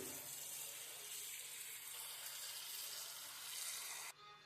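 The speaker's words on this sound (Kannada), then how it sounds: "ಇವಾಗ ನೀರು ಹಾಕಿ ಒಂದೆರಡು ಸಲ ತೊಳ್ಕೊಳ್ಳೋಣ" Chopped cabbage, dressed with turmeric and salt, being rinsed under running water: a steady, full rush of water for about four seconds that cuts off abruptly, with no talking.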